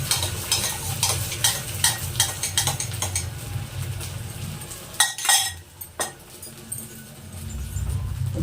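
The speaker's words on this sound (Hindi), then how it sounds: "अब हम इसमें अंडे को डाल देते हैं।" Eggs poured into hot oil in a small clay pot, a loud close sizzle with stirring scrapes and a few clinks of a utensil against the pot.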